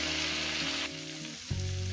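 Egg with vegetables frying in a pan, a steady close sizzle that drops briefly as the mixture is spread out, then picks up again alongside a faint hum, with no talking.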